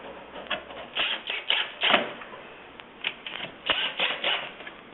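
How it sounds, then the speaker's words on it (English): Screws being tightened on the ring hinge piece of an L&L kiln lid, a series of scraping, clicking driver turns in uneven bursts, close and moderately loud with no speech. "and tighten the screws."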